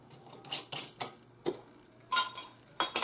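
A utensil works cold butter into biscuit mix in a bowl, making a series of sharp, irregular clicks and scrapes against the bowl, close and fairly quiet, with no talking.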